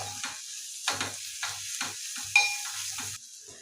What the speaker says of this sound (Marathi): याच्यात एक पाव चमचा असा छोटा पाऊन चमचा हळद घालूया आणि याला परतून घेऊया